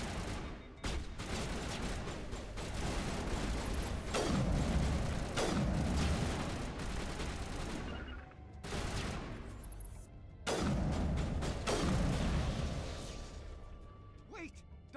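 Turret gunfire in Mass Effect Legendary Edition, with loud sustained bursts of automatic fire and heavy booms rolling across several volleys that break off briefly and then resume, while a player talks over the shooting.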